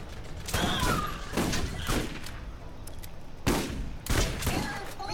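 Combat rifle gunfire in Borderlands, with sharp punchy bursts of several shots in quick succession separated by short gaps, close and loud with mechanical clatter and game noise underneath.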